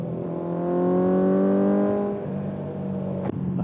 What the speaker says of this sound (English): It's a little bit loud, the exhaust.